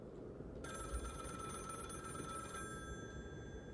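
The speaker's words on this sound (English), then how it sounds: "There's a phone ringing." An old-style telephone bell rings in a video game, a steady metallic trill that starts after a brief pause and carries on quietly against a faint low background hum.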